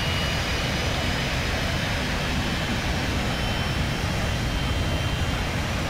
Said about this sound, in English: So here we are doing a touch and go on Valley's runway 32.